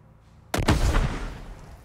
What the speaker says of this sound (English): Smoke bomb time.